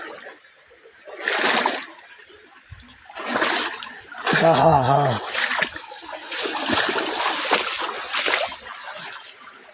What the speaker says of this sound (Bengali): এই পানির আওয়াজ এত